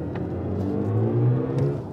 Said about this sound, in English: when you accelerate, it makes this incredible kind of space-aged,